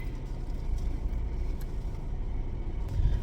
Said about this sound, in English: I was parking my car.